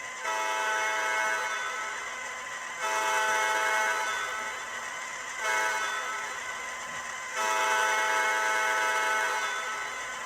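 An MTH HO scale ES44AC model locomotive plays its grade crossing signal effect, a horn sounding in four long blasts with short gaps between them, steady and clear.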